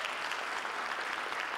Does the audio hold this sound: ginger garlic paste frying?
no